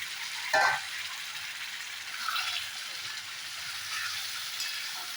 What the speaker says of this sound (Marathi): आता याच्यात हे बटाटे सोडून देऊया आधी